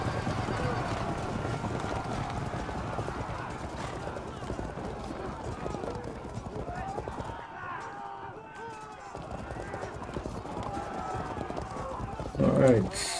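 Horse archers' horses gallop in a video game battle between Byzantine armies, a dense rapid clip-clop of many hooves with occasional whinnies, broken briefly by a quieter gap, while someone talks over it.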